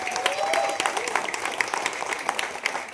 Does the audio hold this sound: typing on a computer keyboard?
no